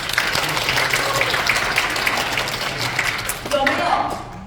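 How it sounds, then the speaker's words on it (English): Audience applause in a school assembly hall, a continuous patter of clapping at moderate level with voices mixed in, swelling briefly near the end before tapering off. "A round of applause."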